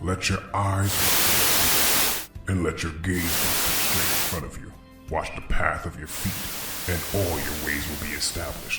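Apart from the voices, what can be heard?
radio static noise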